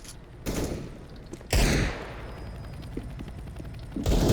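Rapid gunfire bursts in the video game CS:GO arrive in several loud clusters of sharp, punchy shots separated by short pauses, with quieter game sounds in between.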